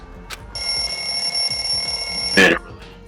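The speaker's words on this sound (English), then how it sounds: "The lounge's wall clock alarm started ringing at 5:30." Wall clock alarm from the video game DanganRonpa 2 rings in a steady, bright electronic trill for about two seconds, ending with a short, louder burst.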